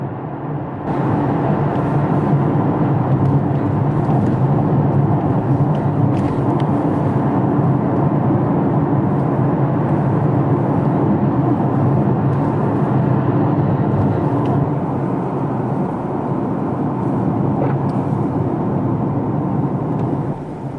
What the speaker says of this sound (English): First drive down a highway in the new car.